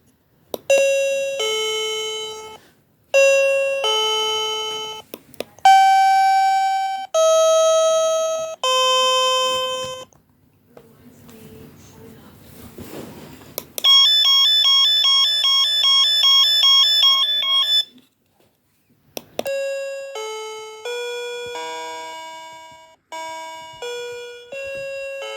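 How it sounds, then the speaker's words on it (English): A battery-operated wireless doorbell chime cycles through its different tones: a series of clear electronic ding-dong and melodic chimes, each ringing out and decaying, with a short button click and a brief pause between tunes. "To select different tones, press this button on the doorbell. This one has 4 tones,"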